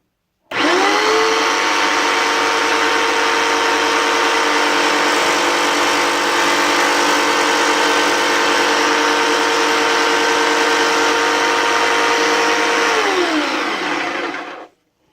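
A BladeRunner X2 tabletop saw runs for about fourteen seconds while cutting MDF: a loud, steady high-pitched whine that starts abruptly, holds an even tone, then dips slightly in pitch before winding down at the end.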